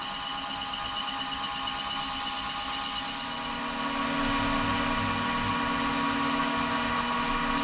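A wood lathe spins a sapele tealight holder, giving a steady high whine that rises in speed and gets louder partway through.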